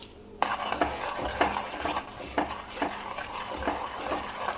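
Bread pudding mixture stirred in a pot with a spoon, producing repeated knocks and scrapes at an irregular steady pace over a constant background hiss; close, moderate level, no talking.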